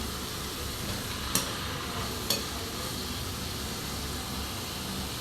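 Chinese kale stir-fried with canned fish in a pan, a soft continuous sizzle and hiss with two sharp clinks of a utensil against the pan, fairly quiet and with no voices.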